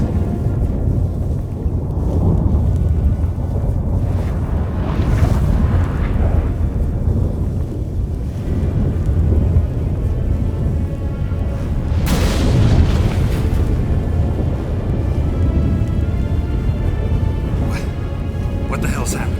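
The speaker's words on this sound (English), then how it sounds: "That a storm?" A heavy storm rages in The Witcher 3, with sustained loud low rumbling and booming thunder throughout and a sharp crackling burst midway, while voices speak over the din.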